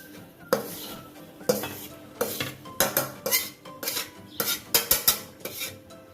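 Roasted flour goes into a pot of boiling water and is stirred for lapsi, giving a series of sharp metallic scrapes and clinks of a utensil against the pot, close and irregular, with a faint sizzle.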